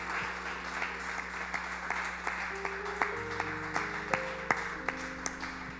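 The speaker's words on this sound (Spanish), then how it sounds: "Levantamos un fuerte aplauso al Señor," Church congregation applauding during a Spanish-language service, a steady wash of many hands clapping with a few sharper nearby claps standing out, while a sustained musical tone hums underneath.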